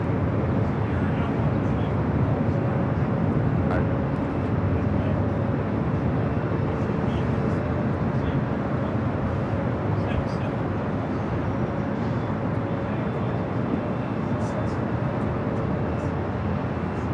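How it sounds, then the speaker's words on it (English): A United Boeing 777 takes off from runway 25 right at Los Angeles airport, a broad, steady jet roar that holds continuously for the whole stretch while a voice talks over it. "Let's go to the United 777 taking off 25 right"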